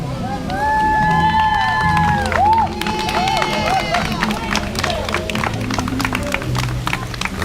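Crowd cheering and clapping at the grand opening of Universal's Volcano Bay water park, a loud, dense outdoor roar with whistles and shouts that stays steady throughout.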